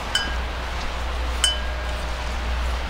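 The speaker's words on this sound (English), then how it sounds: "My wind chimes are a little hung up." Outdoor wind chimes give two faint, clear clinks about a second apart, ringing briefly over a low, steady rumble of wind on a rainy, blustery day.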